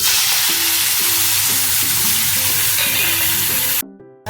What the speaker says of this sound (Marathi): थोडंसं कांदा लाल होण्यासाठी आता हे जरा परतून घ्यायचं